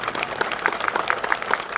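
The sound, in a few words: crowd applause at a political rally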